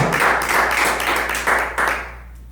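A church congregation claps in praise during a sermon, bursts of applause rising and falling over a low steady hum before trailing off into quieter room sound.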